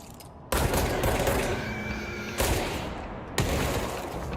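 Three loud gunshots ring out in the shooter game Control, each striking sharply and then fading into a reverberant tail, spaced about a second or two apart.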